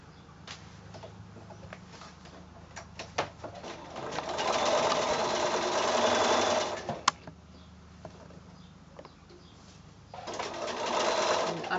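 A sewing machine stitching a quarter-inch seam on a quilt block, with a steady rapid whir in two long bursts separated by quieter ticking and handling.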